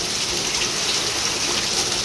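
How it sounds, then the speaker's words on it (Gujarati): Heavy rain pouring steadily, a loud, dense, unbroken wash of water noise with a gushing quality, close by and uniform from start to finish. "વરસાદ આવે છે"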